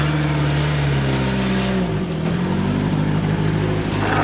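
An old car nicknamed Danger Ranger, running on vodka in the gas tank, idles loudly and steadily up close, its engine note dipping briefly midway before settling back to an even rumble.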